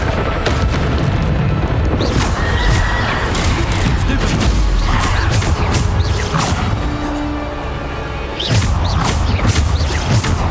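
Bombarda spell blasts going off in Hogwarts Legacy combat, loud booming crashes and whooshing impacts repeating throughout amid dense battle noise.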